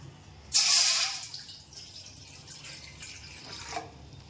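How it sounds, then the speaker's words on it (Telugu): Water is poured into a cooking pot for semiya payasam (vermicelli kheer): a loud, bright splash of about half a second, then a quieter trickle that fades, with no talking. "గిన్నె పెట్టి నీరు పోసుకుందాం"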